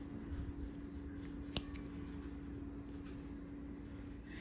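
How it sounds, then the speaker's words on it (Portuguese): Scissors snip off leftover yarn on a crocheted children's bag, a single sharp close cut followed by a faint second click over a quiet room hum. "E podemos cortar o excesso."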